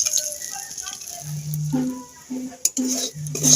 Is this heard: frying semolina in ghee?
yes